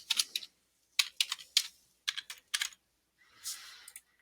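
Quiet bursts of typing on a computer keyboard while entering a login ID and password, several short clusters of close, crisp key clicks separated by pauses, no talking.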